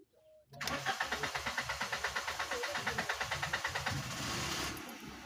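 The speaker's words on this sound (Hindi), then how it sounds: "दोबारा काफ़ी लंबा सेल्फ लेने के बाद स्टार्ट हुई है गाड़ी।" A Suzuki Alto with a cam/crank sensor fault cranks with a rapid, rhythmic starter chug for several seconds before the engine catches and settles into a steady run, recorded up close.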